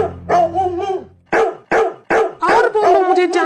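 A dog barking repeatedly up close, loud sharp barks and yips in quick bursts with short gaps, some drawn into whining howls.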